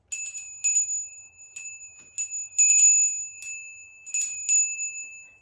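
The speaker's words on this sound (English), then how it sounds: "You can also use the bell like you would a musical instrument" A small bell, used like a musical instrument, rings out in a series of clear, bright strikes, some single and some in quick clusters, each note lingering briefly before fading, alone with no talking.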